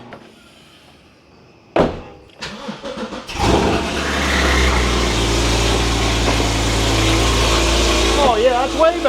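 Naturally aspirated Porsche GT4 engine, from a totaled car with an exhaust leak, cranks with a few sharp bursts, catches and roars to life, then settles into a loud, steady idle close by.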